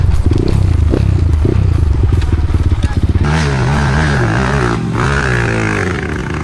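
A motorcycle roars close by on a hill trail while being jumped, with engine revving, clattering and scraping, then a smoother sustained engine drone after a jolt; a voice is heard talking.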